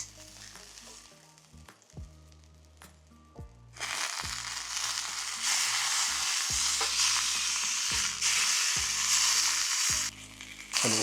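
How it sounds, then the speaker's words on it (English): Wagyu steak searing in beef tallow in a pan, pressed under a steak weight: a loud, steady sizzle with crackling spits that starts after a few seconds of quieter clatter and carries on alone. "Now we're going to sear that for about a minute on each side."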